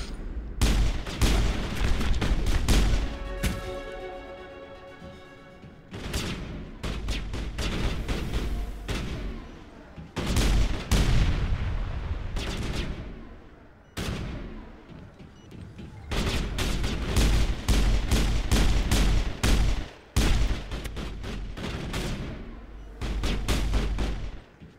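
Heavy gunfire from the video game Mass Effect comes in long bursts of rapid shots, loud and close, separated by brief lulls of quieter ambience.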